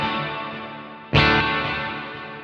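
Electric guitar played through delay and reverb effects on a Quad Cortex unit: a ringing chord decays, then a fresh bright strum hits at about one second and trails off in a long washy tail, with no speech.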